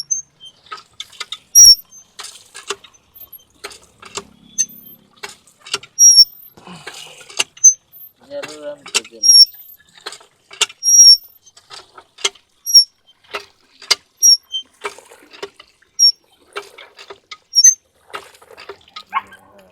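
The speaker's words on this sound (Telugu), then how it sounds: "ఇది పట్టుకొని ఊపాలేగా, దాంట్లోంచి వాటర్ వస్తాయి." A hand pump handle is worked repeatedly to draw cool drinking water after rain, giving irregular squeaky metallic clanks and creaks at close range, with short gaps between strokes.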